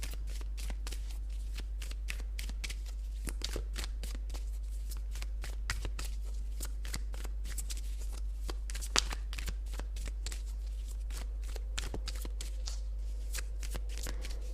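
Tarot cards being shuffled by hand, a close, continuous run of quick papery riffles and flicks over a low steady hum, with no talking.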